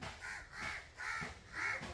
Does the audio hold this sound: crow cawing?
yes